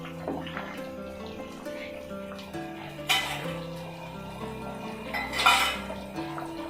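A spoon stirs ghee and oil into pineapple kesari in a pan, giving scattered clinks and scrapes against the metal, two of them sharper, over soft background music.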